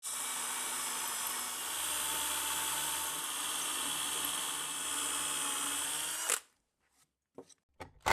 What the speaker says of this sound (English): I am using 3/16 drill bits.